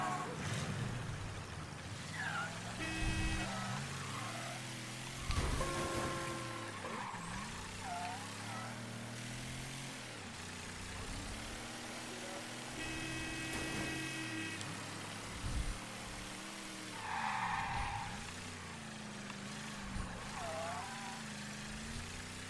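A car driven in the video game Mafia 3, with a steady engine drone rising and falling through gear changes, tire noise underneath, while people talk in German over it.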